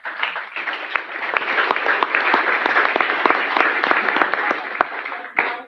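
Applause from the audience at a city council meeting, steady dense clapping held at a constant level for about six seconds, with a few sharper individual claps standing out near the end.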